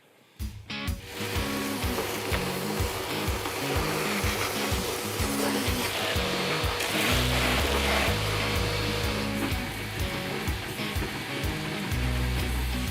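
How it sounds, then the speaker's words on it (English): A vacuum cleaner drones steadily for most of the clip while sucking mouse droppings out of a car engine bay on a GT restoration, with a continuous motor whine and rattling, scraping suction bursts close by. "Should we maybe vacuum the mouse poo off of the..."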